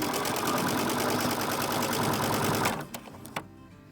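Sewing machine stitching quilt squares corner to corner for flying geese blocks: a fast, steady rhythmic whir running near and loud, then stopping, followed by a few light clicks and handling taps.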